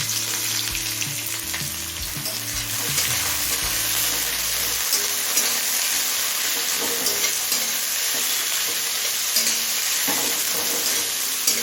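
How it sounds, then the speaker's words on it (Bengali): Chopped onions, two large ones, sizzle and fry steadily in a pan with cumin and bay leaf for a chicken and young jackfruit curry, a loud continuous crackle close by with occasional stirring and a low hum at the start. "এবার পেঁয়াজটা হালকা লাল হয়ে আসা পর্যন্ত ভেজে নেব"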